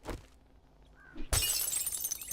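Glass shattering in the survival game 7 Days to Die, a sudden bright crash about halfway through followed by a sustained tinkling spray of shards, preceded by a quieter thud and faint game ambience.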